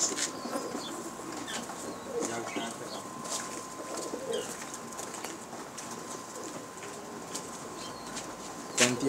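Pigeons cooing softly with bursts of wing flapping at a pigeon loft, low murmuring calls under a voice talking nearby.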